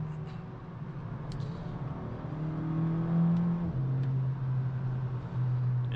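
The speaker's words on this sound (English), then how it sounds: "the DSG shifts so fast that it just moves" A 2005-generation VW Golf GTI accelerates with a rising engine drone, dropping in pitch at quick DSG gear shifts before climbing again; steady and moderately loud from inside.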